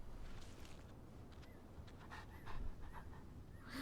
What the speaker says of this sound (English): Oh, that's a good dog. That's a good puppy.